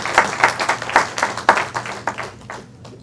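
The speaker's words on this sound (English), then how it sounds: "Come on, clap your hands." A congregation claps along at a memorial service celebrating a life, with steady rhythmic hand claps from a room full of people, fairly close and loud, fading slightly toward the end.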